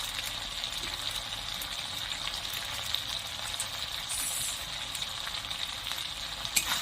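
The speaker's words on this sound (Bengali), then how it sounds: "এটা আমি বেশ ভালো করে কষে নেব" Ground cumin, coriander and Kashmiri chili powder fry in a pan for a shrimp and pointed gourd curry, a steady close hissing sizzle with occasional light stirring clicks and no talking.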